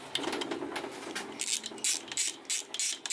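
A ratchet undoes the two cylinder head bolts on a 50cc scooter engine during a 100cc big bore kit install. Close, repeated bursts of clicking come in short strokes with brief pauses, and no voice is heard.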